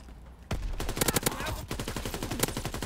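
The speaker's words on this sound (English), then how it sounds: "It's a gun sound from another gun in the game" Rapid gunfire from a newly added weapon in Call of Duty WW2, heard as a burst of sharp, loud shots in quick succession followed by further clustered bursts, close and dominant throughout.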